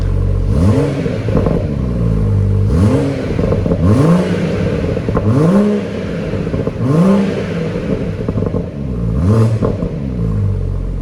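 A BMW M140i Shadow Edition in sport mode, fitted with a Motech setup, blipped repeatedly while stationary, with about six loud, close revs rising and falling over a steady idle rumble.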